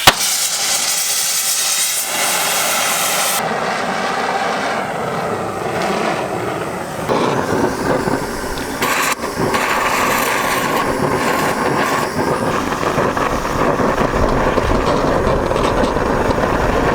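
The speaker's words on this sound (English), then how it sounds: "Got the big torch here. This will melt steel so fast you won't even know it." A big cutting torch melting steel, a steady loud roaring hiss that runs continuously, growing rougher and more turbulent partway through as the flame bites into the metal.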